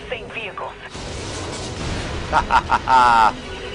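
In-game explosion in Saints Row The Third, a sudden loud blast followed by rumbling debris and crackling bursts, mixed with an excited player's voice and laughter.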